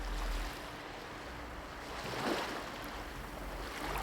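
Sea waves wash onto a shore at night, a soft continuous hiss and rumble with one gentle surge swelling and receding midway, faint and steady with no voices.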